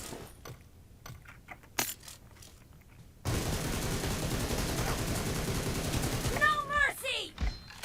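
PUBG Mobile team deathmatch gunfire: a few scattered shots at first, then a sudden sustained burst of rapid automatic fire, with metallic clinks near the end.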